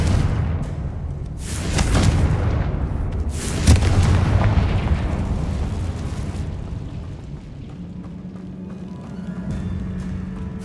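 A Confringo fire spell in Hogwarts Legacy erupts in a deep, booming blast with a rumbling tail, followed by a second heavy burst and a long fading roar that settles into a low hum.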